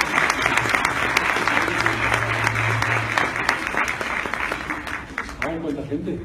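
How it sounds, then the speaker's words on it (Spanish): An audience gives a speaker a warm round of applause at a live talk on emotionally intelligent leadership, steady dense clapping that holds for several seconds before fading slightly, with a low hum and some voices underneath. "para quien pido un fuerte aplauso, por favor"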